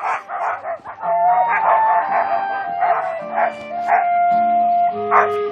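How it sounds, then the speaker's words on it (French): Sled dogs in a musher's team bark and yip continuously, a dense overlapping chorus of several dogs close by with no pause. "Regardez le contact du musher et de ses chiens de tête."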